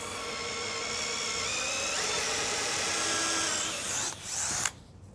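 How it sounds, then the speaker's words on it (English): A power drill bores pilot holes slowly under heavy pressure into wood for a DIY table, throwing apple-peel shavings: one loud, steady whir for about four seconds that wavers, then cuts off abruptly. "when you're drilling, you want to put a nice lot of pressure on the back of the drill there and going nice and slow"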